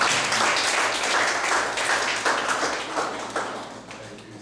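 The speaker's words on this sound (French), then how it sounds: "sous vos applaudissements" An audience claps steadily at a presentation honouring Cyriaque Orlito Hounhouenou, a dense even patter that holds fairly loud throughout and thins slightly toward the end.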